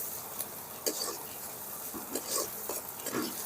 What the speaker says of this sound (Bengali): অনবরত আমি ভালো করে পেঁয়াজটা নেড়ে ভেজে নেব,